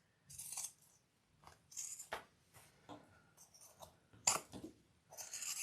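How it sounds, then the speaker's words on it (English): Intermittent sharp snips and crisp cutting sounds as scissors trim fabric along curves for a sewn bag, close and quiet, arriving in short irregular bursts with pauses between them. "I am going to trim this down a little bit"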